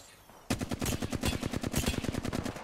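Rapid automatic gunfire in Apex Legends, a steady fast string of sharp shots starting abruptly and continuing at even rhythm, moderately distant and without talk.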